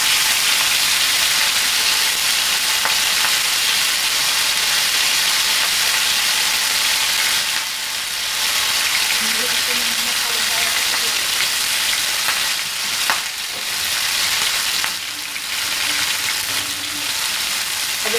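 Pieces of chicken tikka fry over medium heat in a pan, giving a loud, continuous close sizzle and hiss with a few brief surges, and nobody talking.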